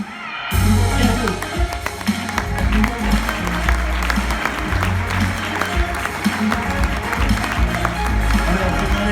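Audience applause at an innovation award ceremony in Mayenne, a sustained dense round of clapping from a large crowd in a hall, lasting about nine seconds with some voices beneath it.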